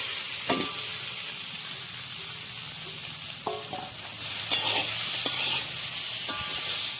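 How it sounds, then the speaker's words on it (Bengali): Soaked papaya pieces fry in a hot pan, a strong steady sizzle broken by repeated metallic scrapes and clanks of a spatula stirring and mixing. "ভালোভাবে নেড়ে চেড়ে মিক্স করে নেব।"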